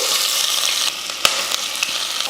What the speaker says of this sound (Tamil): சின்ன வெங்காயம் போட்டு நல்லா பொன்னிறமாக வதக்கிடலாம்